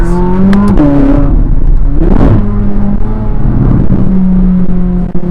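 Chevrolet C8 Corvette Z06 with its naturally aspirated engine, loud close revs rising and falling in several sharp pulls and blips, with bright, high-pitched intake and exhaust tones and no speech.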